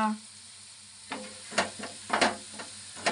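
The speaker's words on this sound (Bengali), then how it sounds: "আমাদের শিবাঙ্গী আলু ভাজা করতেছে" Potatoes fry in a pan for an egg-and-potato dish, with soft sizzling broken by several louder scraping stirs that come in irregular bursts. The sound is close and moderately loud, and no one speaks.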